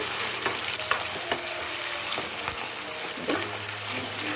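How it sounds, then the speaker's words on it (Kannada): Chopped tomatoes sizzle and fry in a pan for a Kannada breakfast vangibath with ivy gourd, a steady hiss broken by occasional stirring scrapes and clinks, with no voices. "ಟೊಮೊಟೊ ಇಷ್ಟ ಕಟ್ ಮಾಡಿ ಇಟ್ಕೊಂಡಿದ್ಮೇಲೆ ಅದನ್ನು ಇದಕ್ಕೆ ಸೇರಿಸ್ತಾ ಇದ್ದೀನಿ ಅದನ್ನು ಒಂದು ಸ್ವಲ್ಪ ಫ್ರೈ ಮಾಡ್ತೀವಾಗ"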